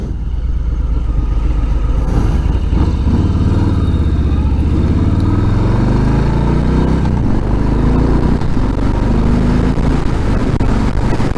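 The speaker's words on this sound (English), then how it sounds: "As you can see, accelerates very well." A 2018 Harley-Davidson FXBB motorcycle engine pulls loud and steady as it accelerates, its rising drone sustained under wind noise throughout, with no talking.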